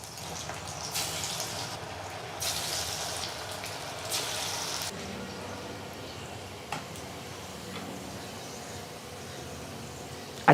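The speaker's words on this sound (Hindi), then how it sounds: "पहले तेल को गर्म करें, फिर फ्लेम को मीडियम करके ध्यान से पकोड़े डालें, एक एक करके" Pakoras fry in hot oil over a medium flame with a soft, continuous sizzle and crackle, rising in brighter hissing swells and sharpening briefly as pieces are added.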